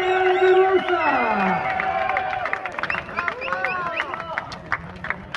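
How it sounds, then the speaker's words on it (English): A large crowd at the Mandalika circuit roars with cheering and applause during the WorldSBK podium presentation, loud and sustained, with an announcer's amplified voice carrying over it. "how about the biggest cheer of his career"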